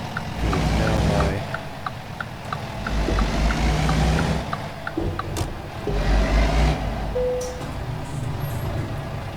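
A truck in American Truck Simulator idles with a deep rumbling engine, while a regular series of reversing beeps and a hiss like an air brake sound over it; a voice is faintly present.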